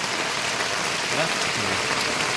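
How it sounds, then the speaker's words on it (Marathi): Heavy midday rain pours down over rice paddy fields, a dense, loud, unbroken hiss filling the whole moment with no voices. "भर दुपार एवढा पाऊस पडतोय, फुल पाऊस एकदम."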